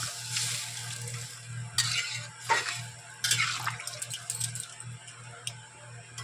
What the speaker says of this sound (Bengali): এবার আমি জল দেবো, পরিমাণ মতন জল দিয়ে দিলাম।